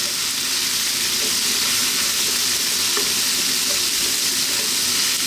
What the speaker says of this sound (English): Now we can add our onion. And again, staying on this high heat.